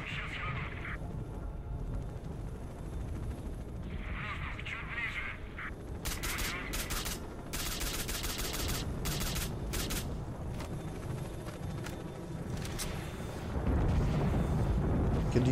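Single-fire gunshots in S.T.A.L.K.E.R. Shadow of Chernobyl, a tight cluster of sharp cracks in the middle amid ambient game noise and duck-like quacking.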